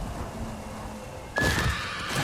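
A horse in the video game Ghost of Tsushima lets out a sudden loud whinny midway through, with hoof clip-clops underneath, after a quieter stretch of low ambient game sound.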